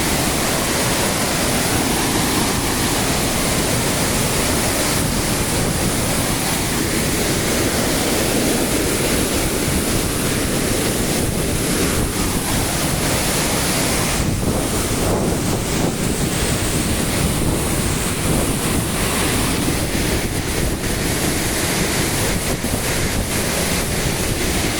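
Véu de Noiva waterfall pours down in a constant loud rushing roar of falling water, dense and unbroken, with some wind buffeting the microphone.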